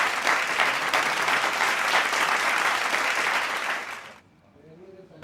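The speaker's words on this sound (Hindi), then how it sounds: "तो जोरदार तालियों से स्वागत करें" Loud, dense applause from a seated audience at an Urdu poetry show, sustained for about four seconds before cutting off abruptly into quiet, with a voice starting at the very end.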